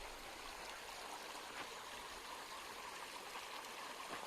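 A steep mountain river rushes downhill in a continuous, steady broadband roar of flowing water, close and unbroken, with no voices.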